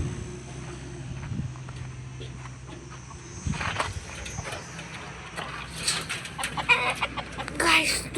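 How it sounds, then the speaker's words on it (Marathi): Backyard chickens clucking and calling at close range, a busy flock with overlapping clucks, quieter at first and growing louder and denser toward the end. "हे बघा खूप साऱ्या कोंबड्या आहे आमच्याकडे."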